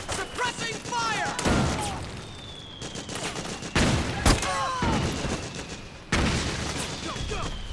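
Bursts of gunfire in the Metal Gear Solid 4 video game, loud repeated volleys with sharp individual shots and booming impacts, layered with shouted voices and whistling projectiles.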